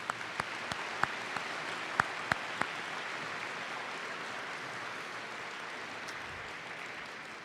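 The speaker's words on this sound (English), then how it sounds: "Can we please give them a round of applause one last time?" Faint, distant applause from an audience at a Veterans Day event, a soft wash of clapping with a few sharper nearby claps early on, tapering slightly toward the end.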